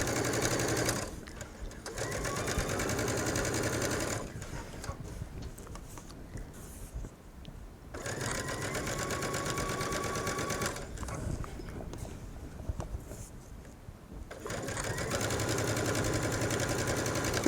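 A sewing machine stitching twill tape onto the facing of a V-neckline: close, steady whirring runs of a few seconds each, separated by short pauses where the fabric is adjusted.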